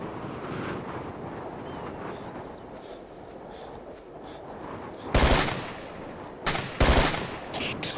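Gunfire in Ghost Recon: Island Thunder, several loud, close bursts of shots crack over a steady windy outdoor background, coming in two quick clusters near the end.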